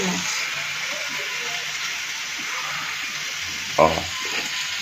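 Potato and radish fry in a pan with a continuous hissing sizzle, joined by a single clunk of a utensil near the end, while faint voices murmur in the background.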